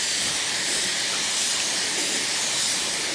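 A paint sprayer hisses in a steady, loud, unbroken spray with no pauses, close and alone.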